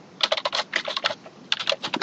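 Rapid clatter of computer keyboard typing while entering commands to configure a Cisco router, two close bursts of quick keystrokes separated by a short pause, with no talking.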